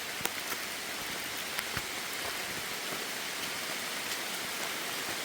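Steady rain falling on the Appalachian Trail in North Carolina, a dense close hiss of drops with occasional louder individual drips or taps, no voices.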